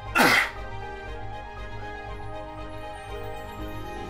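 A single loud, sharp sneeze bursts out near the start, then fades into a low steady room hum with no talking.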